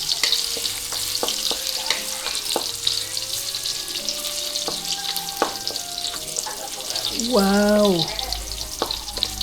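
Garlic and ginger fry in a pan with a steady sizzle broken by sharp clinks of a utensil stirring, and a voice briefly exclaims near the end.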